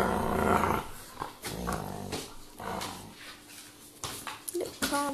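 A pet dog growls and makes drawn-out, talk-like vocal noises in a varied, uneven stream of grumbles and whines, fairly close and moderately loud.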